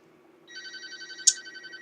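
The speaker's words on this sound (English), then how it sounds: "That's my phone" A phone rings faintly in an indoor room, a short electronic ringtone with pulsing tones rising over a low hum and capped by one brief brighter chirp.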